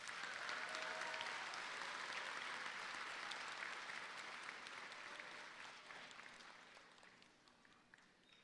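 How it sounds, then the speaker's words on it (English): A large audience at a 2022 high school commencement ceremony applauds in a dense, steady wash of clapping that gradually thins and softens toward the end. "Let's give them all another round of applause."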